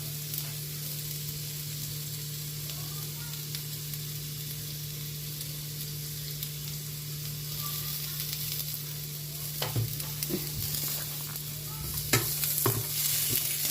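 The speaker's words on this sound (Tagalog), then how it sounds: "Simple vegetables cooking." Carrots and garlic stir-frying in a pan, a steady close sizzle with occasional clacks and scrapes of stirring, no talking.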